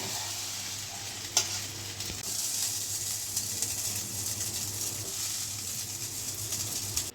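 Dalia upma being stirred in a pan, a steady soft scraping and sizzling texture that carries on throughout with a few brief knocks, close and moderately loud with no talking.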